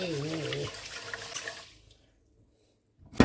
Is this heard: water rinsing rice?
yes